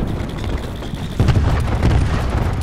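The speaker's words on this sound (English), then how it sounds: "Throwing cluster grenade." Cluster grenade detonations in Call of Duty: Black Ops 4 multiplayer Team Deathmatch, a loud, dense rumble of bursting blasts with a sharper surge partway through, heard without talk.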